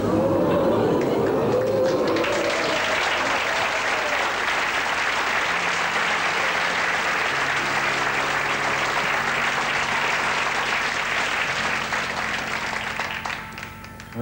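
A TV studio audience at a 1983 BBC variety show breaks into loud sustained applause, dense clapping swelling and holding before tapering off at the end, with faint music tones underneath.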